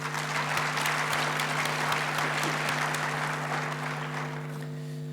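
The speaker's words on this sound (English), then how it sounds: "Let's give them a warm round of an applause." A large crowd applauds at a graduation ceremony, sustained even clapping for several seconds with a steady electrical hum underneath, easing slightly toward the end.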